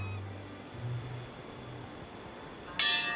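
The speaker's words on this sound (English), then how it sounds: "Who's rung the bell and why?" Bell rung in the fantasy game Pillars of Eternity 2: Deadfire: a low, droning tone hums through the first half, then a loud, bright, ringing strike with rich overtones bursts in near the end and sustains.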